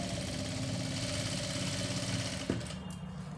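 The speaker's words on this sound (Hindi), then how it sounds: "अभी दोनों को मैं सिलाई कर रही हूँ प्रॉपर तरीके से" A sewing machine runs steadily as it stitches a fabric side seam, giving a continuous soft mechanical hum with a brief knock near the end. The sound is faint and no one speaks.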